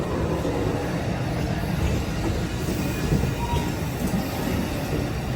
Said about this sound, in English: that train is headed southbound to Los Angeles